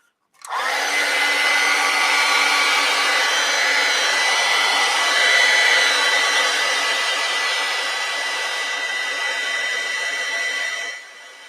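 A hair dryer switches on and blows with a steady, loud whooshing hum for about ten seconds while drying a mixed media art journal page, then cuts off.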